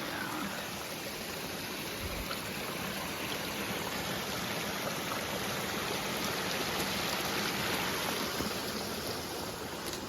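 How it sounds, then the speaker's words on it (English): Mountain stream rushing downhill, a steady, broadband wash of flowing water heard close and continuous without any voices. "Water coming up off the mountain, going down."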